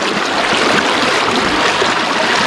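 A fast-flowing stream rushes over slippery rocks in a loud, close, continuous wash of splashing water that fills the whole moment.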